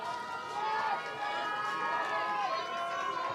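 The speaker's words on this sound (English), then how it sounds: "Listen to the crowd on the dock here as Riverside comes by" A crowd on a riverside dock at the Head of the Charles regatta cheering as a rowing crew passes, a steady roar of voices held for several seconds at moderate distance.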